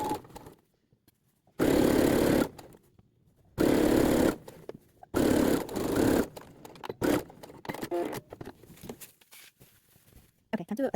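A sewing machine runs in three loud sustained bursts of rapid stitching on pinafore dress seams, each lasting about a second, separated by quiet pauses, then lighter fabric handling and clicks near the end.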